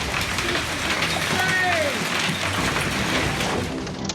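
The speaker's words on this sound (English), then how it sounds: "The hail got heavier, harder, faster." Heavy hail, the size of golf balls to baseballs, pounds down on a car in a dense, unbroken roar that holds steady and loud throughout.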